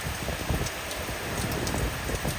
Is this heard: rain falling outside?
yes